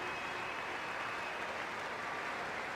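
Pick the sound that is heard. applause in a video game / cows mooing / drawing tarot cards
applause in a video game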